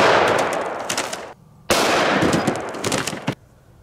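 A .500 Linebaugh revolver firing 435-grain hard-cast bullets into a stacked target, heard as two deafening, close blasts about two seconds apart, each with a long ringing decay.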